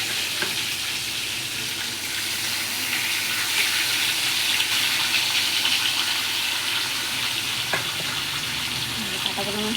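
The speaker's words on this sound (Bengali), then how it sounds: "কাটা পোনা মাছের পেটি ভাজা বসিয়েছি" Rohu fish belly pieces fry in hot oil, a steady close sizzle holding level throughout with a few faint clinks and crackles, no voices.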